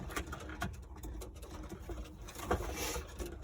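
Pigeons coo softly in a low, throaty rhythm, several birds close by with faint rustling in the background.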